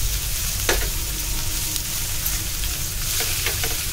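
Rawas (surmai) fish fries Malvani style in a pan, a dense continuous sizzle close up with occasional soft clicks of a spatula turning the pieces.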